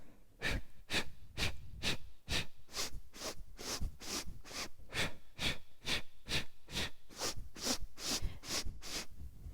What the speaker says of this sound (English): let's hear you breathing